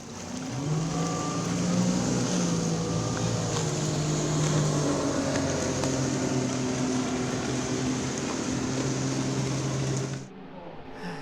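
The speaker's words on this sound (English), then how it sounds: "Paul Lawson hard on the throttle now as they bring this beautiful 1850 bullet through Grantham Street here at the New Zealand Breezer Bridge" An 1850 Bullet ski race boat roars at full throttle during a Bridge to Bridge waterski race, its loud sustained engine drone holding steady for about ten seconds before cutting away abruptly.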